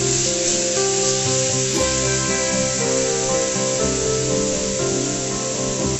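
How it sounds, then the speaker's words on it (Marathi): Green ground paste sautés in hot oil with cumin and mustard seeds, giving a loud, continuous sizzle with crackling spatters that stays steady throughout with no talking. "मोहरी तडतडली की त्यात आपण हिरवं वाटण घालूया आणि हे थोडा वेळ परतून घेऊया।"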